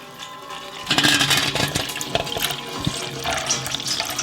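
Apple cider pouring into a funnel lined with a coffee filter for jelly making, a steady splashing liquid stream that starts abruptly and continues with gurgling and trickling.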